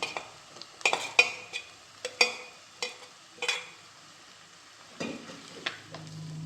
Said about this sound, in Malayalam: അപ്പോൾ അരപ്പും വഴന്നിട്ടുണ്ട്.